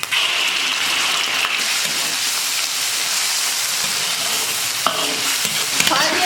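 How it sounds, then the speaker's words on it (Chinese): Pork liver slices stir-frying in hot oil in a wok, a steady loud sizzle and hiss with scraping stirs throughout and a few sharper clinks near the end. "锅里倒点油，把猪肝划一下"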